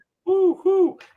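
A human voice imitating a great horned owl, two low sustained hoots in quick succession, close and clear, with a brief breathy sound at the end.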